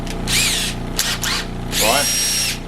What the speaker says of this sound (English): So what I'm going to do is mount them in the drill for the main part